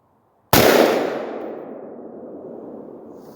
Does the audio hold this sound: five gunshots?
yes